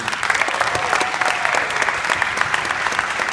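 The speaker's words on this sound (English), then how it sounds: "just want to give him a round of applause" A burst of enthusiastic applause from a room full of people at a documentary screening Q&A in Miami, dense and sustained clapping throughout with no speech over it.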